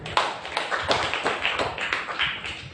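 A church congregation applauding during a sermon, a dense burst of many hands clapping in overlapping, slightly uneven beats, close and continuous with no talk.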